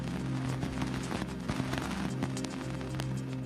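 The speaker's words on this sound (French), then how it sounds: "Voici le bruit des poussières heurtant l'antenne de l'engin." Dust particles striking the antenna of the Cassini probe near Saturn's F ring, converted to sound: a dense, steady crackling wash with scattered sharp pops and ticks throughout, fairly loud and without any voices.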